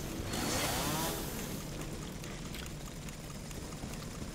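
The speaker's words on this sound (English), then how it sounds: "It's a chainsaw." A chainsaw in the Resident Evil 7 boss fight against Jack Baker gives a steady, noisy, rasping roar that swells early and then runs on at a constant level, with no talk.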